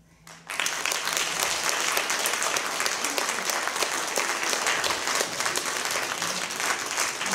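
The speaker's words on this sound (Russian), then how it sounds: "Ваши аплодисменты" After a brief quiet start, a concert audience breaks into sustained applause, dense and even, holding strong for several seconds and swelling slightly at the end.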